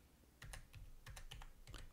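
Quick, close keyboard clicks come in short irregular clusters as numbers are typed in to set values in the Serum synthesizer, with no voice over them.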